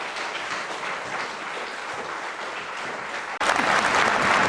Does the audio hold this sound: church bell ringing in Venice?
no